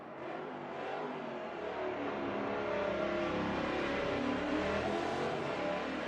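A race car engine in the sim racing game Automobilista 2 revs steadily and climbs in pitch, a loud, continuous, digitized-sounding synthetic roar.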